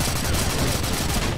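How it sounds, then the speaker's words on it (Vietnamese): Gunfire from CrossFire HD rattles off in a dense, rapid automatic burst, loud and close throughout the short span. "Ê, nó bắn nè"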